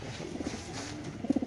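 Red Lahori pigeons cooing at a pigeon farm, soft low coos throughout with a clear run of three or four throaty notes near the end, close and fairly quiet.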